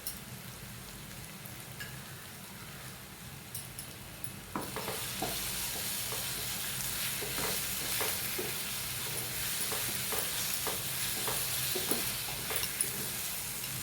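Prawn masala with cumin powder, garam masala and chili powder sautés over a low flame. A quiet stretch gives way to a steady, rain-like sizzle, with scattered stirring scrapes and clicks close by.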